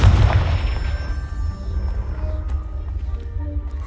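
A Confringo spell in Hogwarts Legacy blasts a pile apart, a single deep boom that rolls off into a low rumble and fading debris clatter, heard alone.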